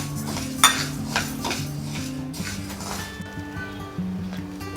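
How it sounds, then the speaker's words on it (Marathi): Urad dal dry-roasted in a pan, with a spoon or spatula scraping and clinking against the metal in irregular strokes and a faint rustle of lentils, over quiet background music. "आता आपण उडदाची डाळ भाजून घेणार आहोत।"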